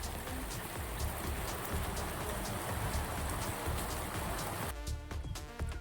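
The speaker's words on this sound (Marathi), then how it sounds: "पाऊस मित्रांनो भरपूर पडत जोरात पाऊस पडत" Heavy rain pours down in a dense, constant roar, drumming hard on nearby surfaces.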